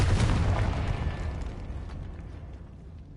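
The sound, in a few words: Confringo explosion spell in a video game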